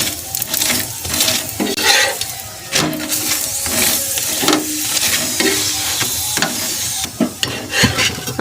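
Paratha frying in white oil on a pan, a steady close sizzle with scattered clinks and scraping of a utensil against the pan throughout, no voices.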